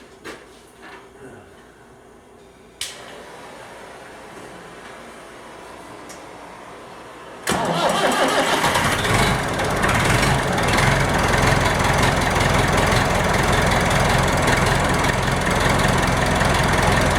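A 275 tractor engine fitted with a replacement starter: a short click, then the engine suddenly catches and settles into a loud, steady, rumbling idle that continues to the end.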